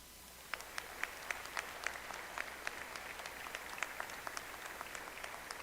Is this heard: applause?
yes